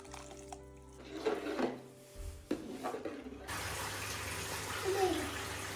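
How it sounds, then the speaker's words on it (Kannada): Goat tripe is being washed in water in a village kitchen: pouring and sloshing splashes close by, building into a steady rush of running water. "ಇದು 3rd ಟೈಮ್ ತೊಳಿತಾ ಇರೋದು ಬೋಟಿನ."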